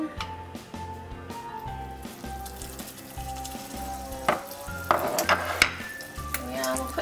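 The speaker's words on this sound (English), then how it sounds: "once the caramel's starting to get a nice golden colour on it, what we're going to do is we're going to add the 75 grams of butter" Butter dropped into golden caramel in a pan for a poached pear pudding, giving a steady close sizzle and frying hiss with light stirring and clinks, no talk.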